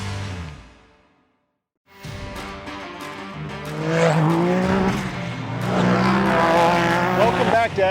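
Race cars at Whiskey Throttle Race Nights at UMC: after a brief silence, loud engines roar and rev with rising and falling pitch, layered with crowd and commentary-like voices, building to a dense, sustained racing din.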